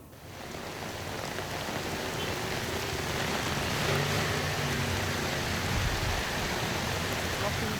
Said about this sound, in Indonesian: Hujan deras mengakibatkan Jalan Raya Plumpang Semper Koja, Jakarta Utara terendam banjir pada Senin pagi.